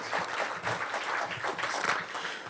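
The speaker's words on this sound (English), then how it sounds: "Please give them a hand of applause." Audience applause at a Pasco Chamber of Commerce luncheon, a steady moderate wash of many hands clapping through the whole stretch with no voices on top.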